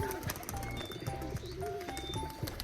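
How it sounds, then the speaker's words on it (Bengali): Pigeons in a loft of flying pigeons coo in repeated low, rolling calls, steady and close, with faint chirps and background hum around them and no talk. "এই জোড়াও কিন্তু সুন্দর ওড়া পায়রা"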